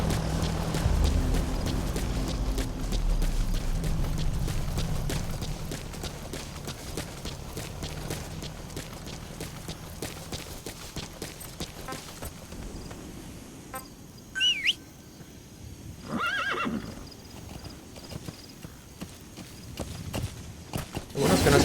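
A horse in the Metal Gear Solid V: The Phantom Pain video game clops its hooves in a steady, fairly quiet rhythm, with a brief higher whinny-like call midway among faint bird chirps and outdoor game ambience.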